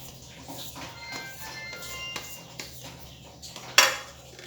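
Onions being mixed with baking soda in a bowl for onion pakoras, heard as soft, irregular scraping and clinking of utensils against the bowl, with one sharper clank near the end.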